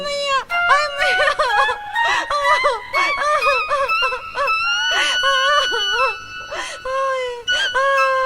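A woman screams and wails in distress, letting out repeated loud, high-pitched, quavering cries close by with only brief gaps between them.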